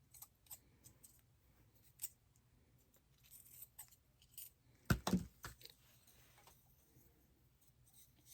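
Scissors snip and trim fabric for handmade Christmas candy decorations, with scattered quiet cuts and rustles and one louder burst of snipping midway, heard close and faint in a quiet room.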